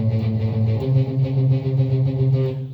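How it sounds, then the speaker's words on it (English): Overdriven electric guitar plays the riff from I Kissed a Girl, a steady run of gritty sustained notes that is loud and close, with no talking. "There's a nice overdriven part which goes something like this"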